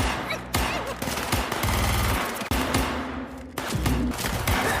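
Gunfire rattles through a Squid Game season 2 scene set in a hallway near a control room: dense, loud, sustained bursts like machine-gun fire, briefly broken by a sharp cut midway, with heavy low rumble beneath.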